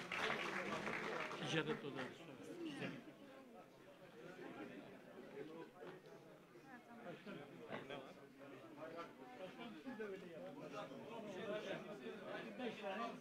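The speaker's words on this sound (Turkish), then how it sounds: "alkışlarınızla Dilovası Belediye Başkanımız Sayın Hamza Şair Beyefendi'yi plaket takdimi için davet ediyorum." Applause from the audience at a federation congress as a mayor is invited up for a plaque presentation, a steady wash of clapping mixed with crowd chatter throughout.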